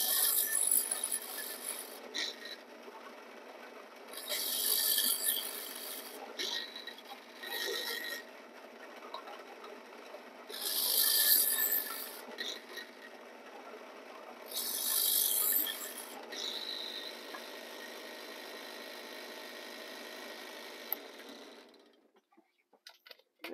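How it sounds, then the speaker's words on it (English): An electric drill knocks burrs off a metal Altoids tin being made into an alcohol stove, giving repeated short bursts of close, harsh grinding over a steady low hum, ending in quiet. "I'm just going to use the drill here to kind of maybe knock those burrs off a little bit"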